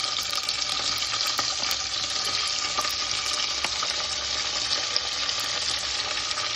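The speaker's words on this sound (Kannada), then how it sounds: "ಸ್ವಲ್ಪ ಎಣ್ಣೆಯಲ್ಲಿ ಬಾಡಿಸಿ ಆಮೇಲೆ ಅದರಲ್ಲಿ ತೆಳುವಾಗಿ ಕಟ್ ಮಾಡಿರುವಂಥ 2 ಟೊಮೆಟೊವನ್ನು ಹಾಕಬೇಕು." Thinly sliced tomatoes fry in oil in a pan for rice, giving a loud, dense, continuous sizzle that stays even throughout, with a few faint stirring taps and no speech.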